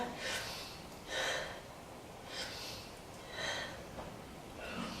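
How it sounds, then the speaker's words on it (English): Slow, rhythmic breathing during a beginner yoga session, several soft breathy inhales and exhales spaced about a second apart, fairly quiet and close with no talking. "let's take a few breaths"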